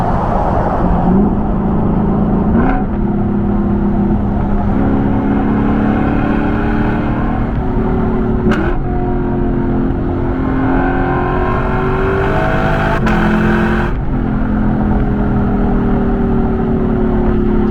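A loud 471-horsepower 2022 Lexus LC500 engine roars close by, revving higher through several gears with brief dips at each shift, pulling hard and continuous.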